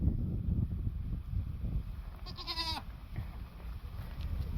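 A single goat bleats once, a short wavering cry at moderate distance, over outdoor rumble and background noise.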